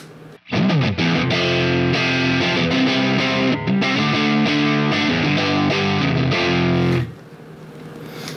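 Distorted electric guitar through a Line 6 Helix Brit 2204 amp model plays a thick, bass-heavy sustained riff for about six seconds before cutting off abruptly, loud and alone.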